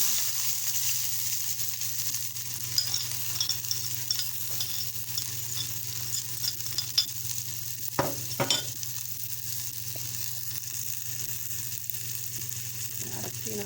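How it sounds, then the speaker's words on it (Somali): Steady sizzling of onions frying in hot oil, a constant hiss with a few brief clatters of stirring, no talking. "waxaan ku shubanaynaa basasha"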